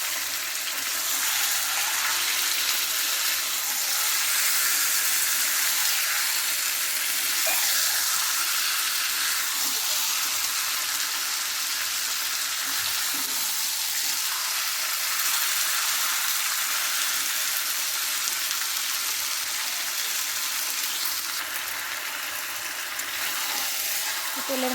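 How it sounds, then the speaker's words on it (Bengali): Marinated chicken frying and being stirred in hot oil for a home-style chicken biryani, a steady, close, broadband sizzle that holds for the whole stretch with occasional soft scrapes of stirring. "তেলের মধ্যে আমি ম্যারিনেট করে রাখা চিকেনটা দিয়ে হালকা নেড়ে চেড়ে নেবো।"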